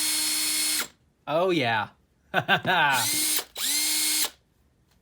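Cordless DeWalt 20V Max drill powered by a rebuilt lithium battery pack, whirring in three bursts of close, steady running with brief pauses, a short exclamation from a man heard between them.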